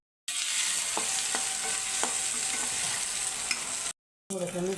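Curry leaves, onion and tomato frying in a pan for an aloo kadhi sabzi, a loud steady close sizzle with a few light stirring clicks, briefly cut off near the end.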